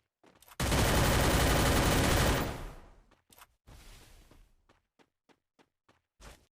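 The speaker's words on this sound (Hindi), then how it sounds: "2 गोलियों से शॉटगन मारी और मैं नॉक हो गया" Shotgun fire in the mobile game Free Fire: a long roaring burst of gunfire, followed by a quieter rumble and several short sharp clicks, then one final loud crack.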